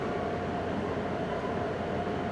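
Amtrak train rolling into a station, a steady low rumble of wheels and rail noise at moderate distance, with no voices.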